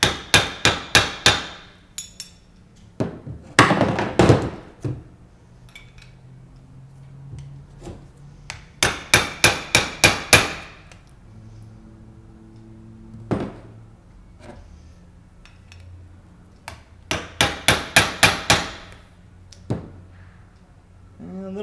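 A hammer taps a crown race down onto a scooter fork in quick bursts of four to six sharp metallic knocks, the groups separated by pauses with light handling sounds and faint clinks between them.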